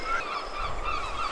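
Seagulls disturbed from their roost on coastal cliffs by a Yorkshire fishing village, calling in a continuous, overlapping chorus of harsh honking cries, fairly loud and steady throughout with no talking.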